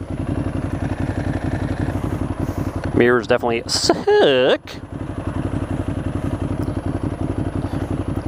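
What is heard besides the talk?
stock Ducati Hypermotard motorcycle exhaust while riding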